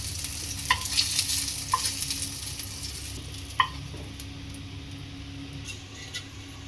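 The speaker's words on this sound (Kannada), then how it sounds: "ಅದೇ ಆಯಿಲಲ್ಲಿ ಈ ರೀತಿ ಫ್ರೈ ಮಾಡ್ಕೊಬೇಕು" Vegetables frying in oil in a pan sizzle steadily up close, with a few light clinks and scrapes from stirring.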